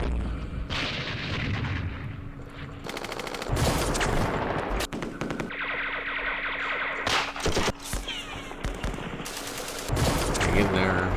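Gunfire and artillery in the video game Campaign Series Vietnam, set at Dien Bien Phu, with repeated loud bursts of shots and blasts in uneven clusters and brief quieter gaps between them.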